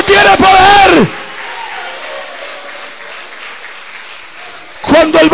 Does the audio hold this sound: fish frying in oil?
no